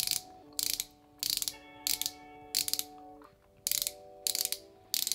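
Maybelline Instant Age Rewind twist-up concealer being wound out, a series of crisp ratcheting clicks in eight short bursts with brief pauses between, close and clear, no talking.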